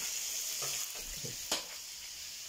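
Chicken kefta with onions frying in a pan while chips cook, giving a steady close sizzle with a few soft stirring clicks and one sharper crackle.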